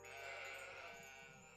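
A single drawn-out sheep bleat in the puzzle game Old Man's Journey, a wavering nasal cry lasting over a second, faint and alone against soft background music.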